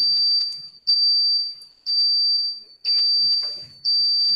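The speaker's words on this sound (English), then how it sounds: "So after dumping program, you can hear this beep sound." Piezo buzzer on a programmed robot beeping after a program upload: four loud, steady high-pitched tones, each about a second long, separated by short gaps, with faint background noise between them.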